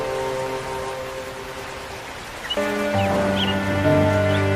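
Rain falls steadily in a cartoon about a crow and birds, a constant soft patter under tonal background music that grows louder partway through.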